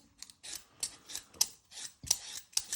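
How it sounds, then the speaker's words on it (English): Potatoes being peeled by hand with a sharp peeler while preparing a smoked haddock chowder: a close series of short, crisp scraping strokes in a steady rhythm, about six passes in under three seconds, with no talk over them. "So you're going to peel them using your peeler."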